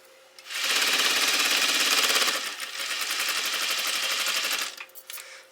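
Sewing machine fitted with a gathering foot stitching soft tulle into ruffles, a steady rapid mechanical chatter that runs for about four seconds, briefly slows, then resumes before stopping; close and fairly loud with no talking.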